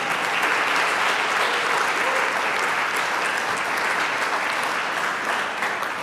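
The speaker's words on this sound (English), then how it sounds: "Can we give them a round of applause, please?" Conference attendees at a carbon-to-value initiative kickoff give a loud, sustained round of applause, thick crowd clapping lasting several seconds at an even level before easing slightly.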